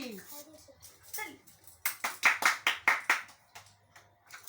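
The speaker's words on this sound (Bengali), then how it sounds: "হাততালি হাততালি।" A small group claps for the winner of a party game, a short run of about ten sharp, close handclaps following speech at the start.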